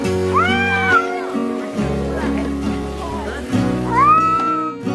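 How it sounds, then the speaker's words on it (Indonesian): Fighting cats yowling and meowing with rising, drawn-out wails at the start and end, over a low steady musical drone. "Biasanya kucing akan mengeluarkan suara menggeram saat berkelahi dengan kucing lainnya."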